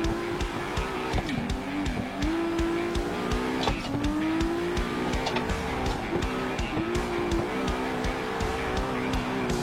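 A car drifts with its engine revving in rising and falling sweeps and tires sliding and squealing, loud and continuous, repeated pulls across the whole stretch.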